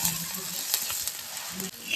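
Prawns sizzle on a hot tava griddle as they are roasted until golden, before any masala is added. The frying hiss is continuous and even, with a few brief stirring scrapes.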